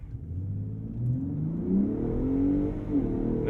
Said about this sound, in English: let's go into the sport drive mode, which will of course unleash the best throttle response and the loudest exhaust,